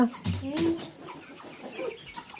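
Chickens cluck and squawk close by in short, uneven bursts, a few birds calling over quiet background noise.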